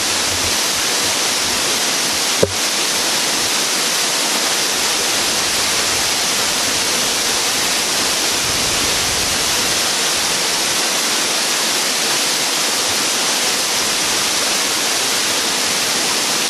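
Sapang Dalaga waterfall roars as a steady, loud broadband rush of falling water, close and unbroken throughout, with a single sharp click early on and no talk over it.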